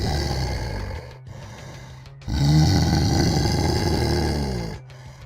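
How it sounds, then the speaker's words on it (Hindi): A wild tiger in a Hindi horror cartoon lets out a loud, rough, drawn-out roar, then a second, louder and longer roar after a short pause, with no speech. "तभी जंगल से जंगली बाघ बाहर निकल नंदिनी के सामने खड़ा हो जाता है।"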